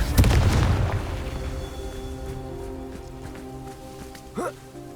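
A Confringo fire spell blast in the Hogwarts Legacy video game, a loud booming burst at the start that decays into a rumbling tail with tonal magical hum, followed by a brief voice-like cry near the end.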